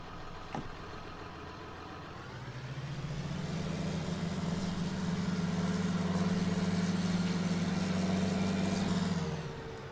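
A low, steady John Deere 6030 Premium tractor engine in Farming Simulator 19 starts up and settles into a droning idle, humming evenly for several seconds before cutting off.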